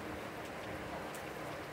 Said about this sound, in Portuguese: Chuva forte.